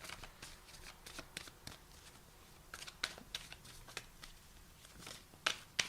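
Playing or tarot cards shuffled by hand, a rapid series of crisp riffling and flicking bursts repeating irregularly, close and soft, with no voices.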